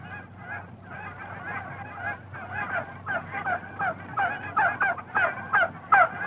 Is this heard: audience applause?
no